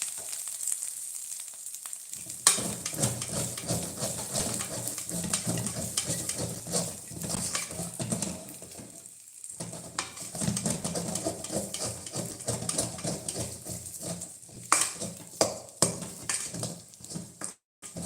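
A spoon stirs and scrapes the thick sweet dish ukkali in a pan on a turned-off gas stove, with repeated uneven scraping and soft sizzling that pause briefly partway through.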